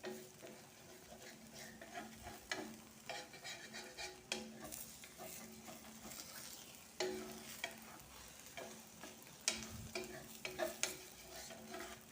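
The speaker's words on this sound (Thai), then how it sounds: "เอาไข่ให้รอบ ให้สุกทั่วกันนะทุกคน แล้วเราค่อยกลับด้านเนาะ" Eggs frying in a pan with an eggplant stir-fry, giving a steady sizzle with frequent scraping and stirring clinks from a utensil against the pan, close by and without talk.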